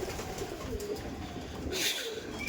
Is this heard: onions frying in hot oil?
no